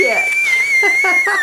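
A singer sings a sustained, very high whistle-register note in a live performance, piercing and steady with faint lower vocal sounds beneath it.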